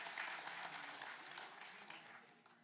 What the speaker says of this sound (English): If you're older than the internet, give up those claps.